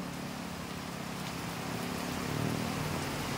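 Heavy rain falls onto floodwater outside a house in the Philippine provinces, a soft, even wash of noise with no voices, steady and moderately distant.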